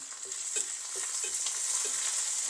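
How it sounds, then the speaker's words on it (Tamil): Oil sizzles steadily in a pan over lowered heat with rhythmic scraping as dried chillies and curry leaves are stirred, close up and fairly quiet. "இப்போ இதை வந்து கொஞ்சம் பொரியணும்"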